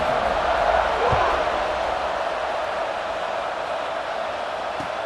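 Football stadium crowd at a kickoff in a Michigan vs BYU video game, a broad, steady roar at full volume that eases slightly toward the end, with a faint thump near the start and no voices over it.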